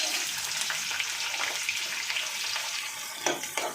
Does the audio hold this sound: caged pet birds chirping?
no